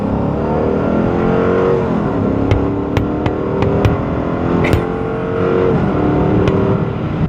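A 2016 Dodge Charger R/T four-door sedan engine hums steadily while driving, a continuous loud drone that swells and eases with throttle, accompanied by a few sharp clicks and no talking.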